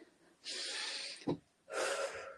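Slow relaxation breathing, a long audible inhale and then a long exhale, close to the mic and soft, with a short sniff between the two breaths.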